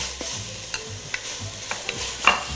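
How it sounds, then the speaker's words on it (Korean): Green onions, apple, onion and minced garlic sizzle in a hot pan over medium heat while a spatula scrapes and taps repeatedly, close and busy, with no talking. "파 볶다가 나머지 사과, 양파, 마늘 다진 거 볶아주시면 돼요"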